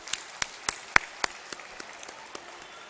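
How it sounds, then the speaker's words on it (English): Sparse, scattered hand claps from an audience at a school annual day celebration, about a dozen sharp individual claps spread unevenly over a few seconds, fairly faint and tapering off, with no talking. "Can we hear a round of applause for them"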